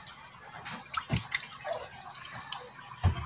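Dirty pond water from a DIY pond filtration system draining out of a drain pipe, heard as scattered trickles and drips with a few louder splashes, fairly close and alone.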